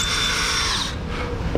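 Power drill on its torque setting driving a screw into a wooden nightstand drawer front, a short, fairly quiet burst of whirring that stops abruptly partway through.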